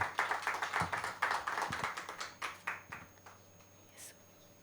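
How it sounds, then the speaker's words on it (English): Audience applause welcoming organizers onto the stage at a lecture event, a string of sharp, distinct claps from a modest group that slowly fades, faint and roomy over a low background hum. "Please everyone welcome them with a round of applause."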